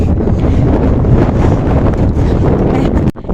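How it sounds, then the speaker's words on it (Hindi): Cold wind blows hard across Mount Uhud in Madinah, buffeting the microphone with loud, continuous rumbling gusts that cut off abruptly near the end. "ठंडी हवा चल रही है इस टाइम"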